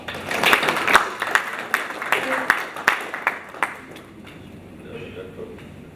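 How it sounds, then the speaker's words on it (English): Scattered clapping from an audience at the opening day of the African School on Decentralisation, a sparse round of separate claps that thins out and fades after a few seconds into a quiet room. "Can you give ourselves a round of applause"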